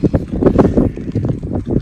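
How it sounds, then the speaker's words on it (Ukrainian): Gusty, cold wind with rain buffets the microphone at a feeder fishing competition, in low, rumbling bursts, with a steady roar rising and falling throughout. "Такий вітер, холодний дощ"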